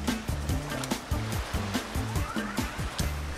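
Rushing, splashing water in a Fortnite deathrun course plays as a continuous noisy wash, running under rhythmic, low pulsing game music throughout.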